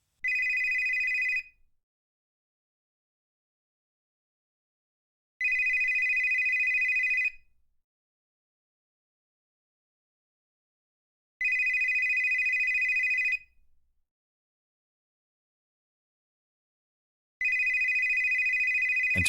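A telephone bell rings in four loud, evenly spaced bursts of about two seconds each, with silence between them and no voices.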